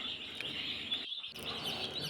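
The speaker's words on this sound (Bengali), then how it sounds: "এখানে মোট 500 পিস টাইগার মুরগির বাচ্চা আছে" Tiger breed chicken chicks cheep in a dense, continuous chorus of high peeps from a batch of around 500, close and steady, with a brief dip in the middle.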